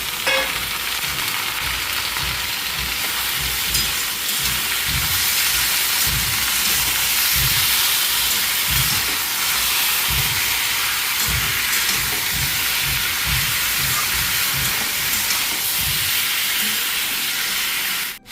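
Chicken pieces frying in a pan with browned onions, a loud, continuous hiss and sizzle close up, with rhythmic low stirring thumps repeating throughout.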